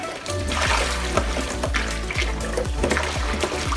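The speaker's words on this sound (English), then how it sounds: "I'm really squeezing" Laundry being hand-wrung over a basin, water splashing and streaming down in repeated squeezes with a rough, irregular rhythm, close and fairly loud.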